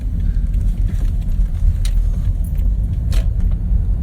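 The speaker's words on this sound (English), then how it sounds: "Oh, this traffic." Road traffic in a construction detour heard from inside a vehicle, a steady loud low engine and road rumble with a few brief metallic jingles and clicks on top, and no talking.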